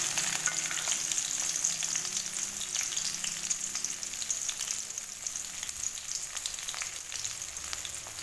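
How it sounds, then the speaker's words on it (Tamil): Chopped okra fries in hot oil in a kadai with a bright, steady, close sizzle and faint crackles, and no voices. "எண்ணெய் சூடாமே இதில் பார்த்தீங்கன்னா நம்ம கட் பண்ணி வச்சுருக்கிற வெண்டைக்காய் இதில் சேர்த்துக்கலாம்."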